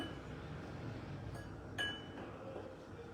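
Caster sugar stirred in a bowl with a spoon, giving a few light, sharp clinks against the bowl over a steady low background hum, with no talking.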